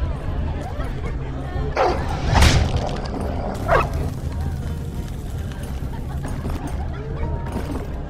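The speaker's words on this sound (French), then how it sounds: "sortez ce chien de ma cuisine!" A dog in a medieval-fantasy kitchen in the Game of Thrones video game gives a few sharp barks and yips, with two distinct loud bursts near the start amid background hubbub and murmuring voices.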